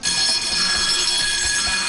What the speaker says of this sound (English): his body heat is picked up by the sensor, and the alarm starts to sizzle